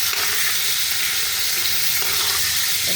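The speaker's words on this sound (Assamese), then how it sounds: "মানে ভাজি ল'লে পনীৰখিনি ভাঙি নাযায়, সেইকাৰণে অকণমান ভাজি ল'বি লাইট।" Paneer fries lightly in a pan in a home kitchen, giving a steady, close, continuous sizzle that holds evenly throughout with no voices.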